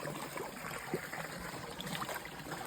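Water trickling from a poorly built check dam at Narasimhanahalli, a faint steady outdoor babble with small gurgles and no talking.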